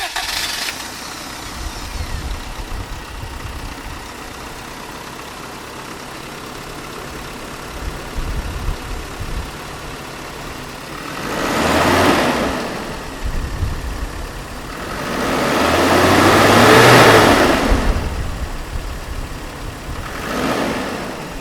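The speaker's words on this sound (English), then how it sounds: "Alright, so we're going to take a drive in the 1986 4Runner." A 1986 Toyota 4Runner SR5 with a turbo engine idles steadily, then revs up twice in swelling bursts, the second longer and louder, close and alone without talk.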